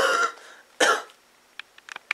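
Two harsh, close coughs from a person with a cold, each a short rough burst, followed by a few faint clicks and small noises.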